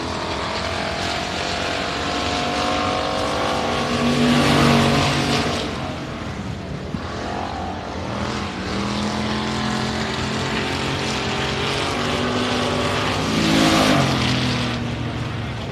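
A factory stock race car, number 5T, runs a qualifying lap at Sabine Speedway, its engine roaring steadily and swelling louder twice as it passes close, then easing back between passes.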